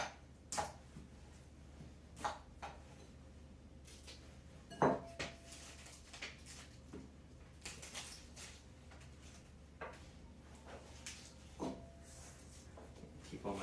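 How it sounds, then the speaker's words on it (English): A knife taps and thuds on a chopping board while slicing Brussels sprouts into thin chips, irregular quiet chops spaced a second or two apart, with one louder knock partway through. "And we're just going to cut them into little chips"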